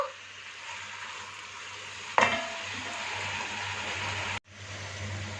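Goat trotters for siri paya frying in a pot give off a constant close sizzle while being mixed. A single sharp clank sounds midway, then the sizzling continues, briefly cutting out near the end.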